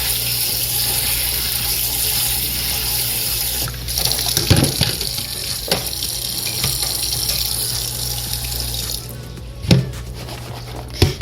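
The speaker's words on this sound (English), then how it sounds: "so I typically will rinse them off really good" Tap water runs steadily into a sink as walnuts are rinsed under it, a continuous splashing flow with a few brief clunks and knocks from handling.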